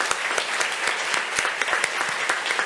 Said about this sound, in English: So if we can give a round of applause to our Safer Internet Center coordinators.